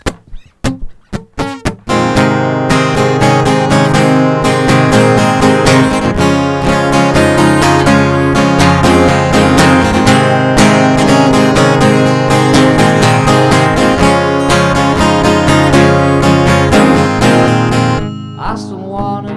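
An original song plays loud and continuous after a few brief opening hits, with full instrumental harmony sustained throughout before fading near the end.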